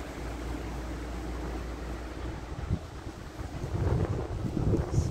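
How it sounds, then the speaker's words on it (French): Strong mistral wind at about 110 km/h in a valley near Saint-Rémy-de-Provence buffeting the microphone, a steady rushing roar that swells into heavier low gusts toward the end, with no voices. "Il y a que ça, on entend que le vent."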